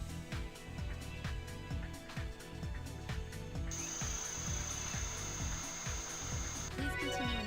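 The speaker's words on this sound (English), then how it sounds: "Bring me the drill." A surgical bone drill in the Trauma Team video game whirs steadily with a rapid ticking pulse. A sustained high whine joins partway through, and the sound runs continuously at moderate level with no talk.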